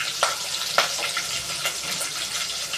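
Asafoetida dropped into hot oil with spices and chillies for a potato and brinjal masala rice, a lively crackling sizzle with a few sharp pops over steady frying hiss, no voices.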